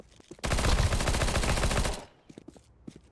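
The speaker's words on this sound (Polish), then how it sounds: "Nie no, biegasz i strzelasz w nich." Rapid automatic gunfire in Counter-Strike 2, a loud dense burst of shots lasting over a second, then a few scattered quieter clicks and game sounds.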